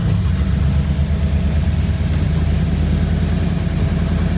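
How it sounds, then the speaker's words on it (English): A 1985 Ford Bronco V8 with new spark plugs idles steadily, a loud, close, low rumbling throb with an even pulse running throughout, no voices. "I want to turn this on one more time just to see how it runs with the new spark plugs only"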